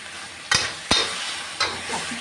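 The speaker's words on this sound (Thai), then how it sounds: "จะผัดสดเลยนะคะ" Chicken sizzling and being tossed in a hot pan during a stir-fry, with a few sharp scraping stirs standing out over a steady frying hiss.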